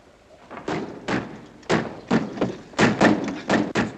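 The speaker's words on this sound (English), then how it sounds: "Dick, lock the door." A door is shut and locked in a tense wartime hideout in the Philippines, heard as a series of heavy thumps and knocks at close range, some single and some in quick pairs, with no talk over them.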